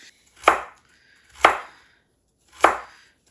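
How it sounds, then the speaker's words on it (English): Knife chopping leftover ham into thin strips on a board, three separate firm chops spaced about a second apart, close and clear with no talking. "my dad says to cut them in very thin strips, thin pieces, small pieces"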